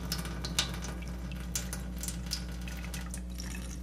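Leftover wet coffee grounds from a French press are poured into a strainer lined with a damp paper towel, giving a steady, close splashing and trickling of liquid over a constant low hum.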